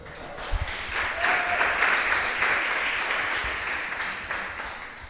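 Audience applause following a lecture on mathematics and design in architecture, a steady broadband patter of many hands clapping at moderate level throughout, with a faint voice briefly heard near the start.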